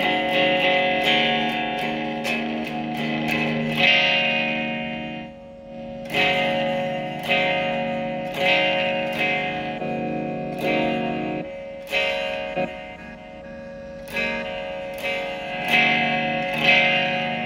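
Clean electric guitar played through a Line 6 POD HD300 on its Hiwatt amp model, with strummed chords ringing out in repeated phrases, loud and close with a spacious effected tail and no talking.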